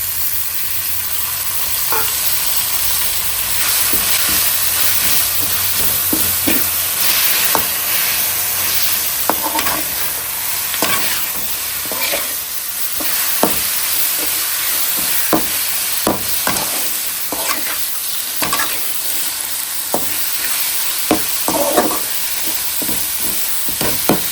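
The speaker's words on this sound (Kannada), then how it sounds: "ಇವಾಗ ಮಾವಿನಕಾಯಿ ತುರಿದಿರೋದು ಹಾಕ್ಕೊತಾ ಇದ್ದೀನಿ" Grated raw mango sizzles in a hot pan under continuous frying hiss, with frequent scraping and stirring clicks throughout.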